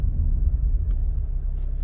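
An MG ZS car driving home, heard from inside as a steady low road rumble and engine drone at fairly high level, with no speech.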